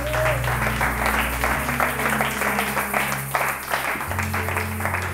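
Congregation applauding in a church: dense, steady clapping from a crowd over sustained low keyboard tones that shift pitch partway through.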